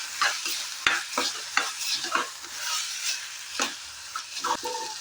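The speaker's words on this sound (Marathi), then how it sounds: "मी आता एक वाटी मसाला वाटताना घालून घेते छान असं मिक्स करून घेते" Ground green masala being stirred into frying peas for a pea pulao, a steady sizzle in the pan broken by repeated scraping strokes of the spoon, close and fairly loud, with no talking.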